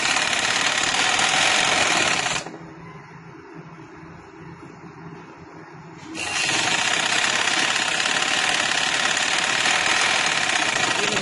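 A sewing machine stitches fabric with a steady, loud mechanical whir that halts for several seconds midway, then resumes at the same pace.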